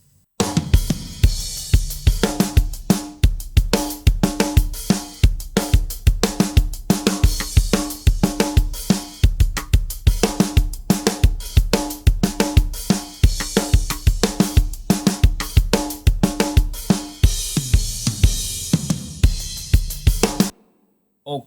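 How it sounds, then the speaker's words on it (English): Soloed drum mix playing back in a studio mixing session, with punchy kick and snare hits in a steady, driving groove and bus processing on the drums; loud and continuous for about twenty seconds with no talking. "that's the sound of the drum mix by itself"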